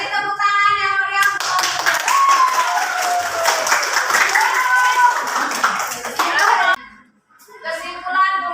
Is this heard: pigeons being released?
no